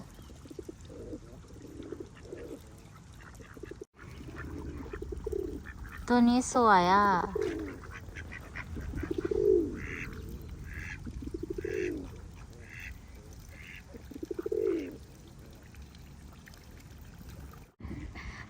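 Ducks, with pigeons crowding in, being fed at the water in New Zealand: repeated nearby quacks and honks come in short bursts, while someone talks softly over them.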